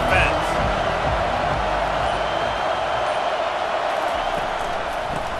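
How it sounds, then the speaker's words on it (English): Steady roar of a stadium crowd in a College Football 25 game between South Carolina and Alabama, a dense continuous wash of noise under a commentator's voice. "This crowd trying to make life miserable for this offense"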